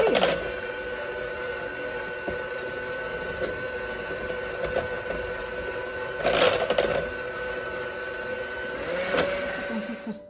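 An electric mixer beats mascarpone cheese for tiramisu with a continuous high whine, its motor steady throughout with a few louder bursts of the beaters scraping the bowl.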